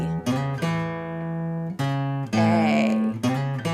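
A guitar plays the open-string bass-note riff of a song, starting on the open E. A handful of plucked low notes ring out close and clear, each sustaining into the next, with no talking.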